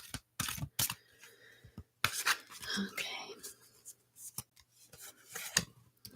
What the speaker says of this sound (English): I'll just do a couple more shuffles and pull a card or two